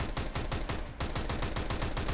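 Rapid automatic gunfire from a rifle in CS:GO, a steady burst of sharp, evenly spaced shots with one brief pause near the start before the firing resumes, loud and close.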